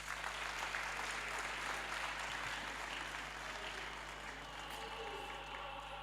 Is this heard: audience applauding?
yes